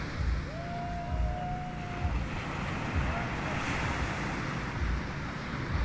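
Big sea waves and strong wind roll in at the shore during traditional net fishing in the Philippines, a constant rushing surge with wind buffeting the microphone and a faint tonal whistle briefly audible.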